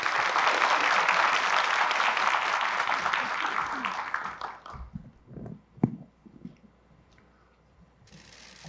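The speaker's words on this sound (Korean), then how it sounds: "여러분 뜨거운 박수 보내주세요." Loud, dense audience applause at a 2023 Korean Ministry of National Defense MAKRI honorary ambassador appointment ceremony, sustained for about four seconds before fading into scattered claps and quiet room noise.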